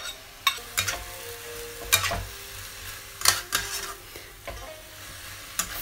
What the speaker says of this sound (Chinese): 火开大，翻炒到茭白缩水了，我们就下肉丝